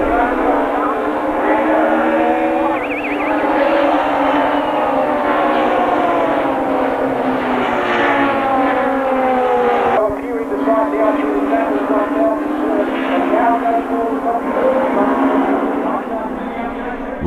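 Super touring race cars, including an Alfa Romeo 155 and a Ford Mondeo, race past at Amaroo Park, a steady distant engine drone with shifting pitch from the field, under a voice.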